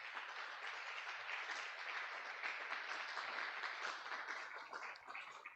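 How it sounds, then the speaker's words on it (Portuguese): A church congregation claps together in sustained, steady applause at a worship service, a dense even wash of many hands from start to finish with no voices standing out. "vamos aplaudir a Jesus."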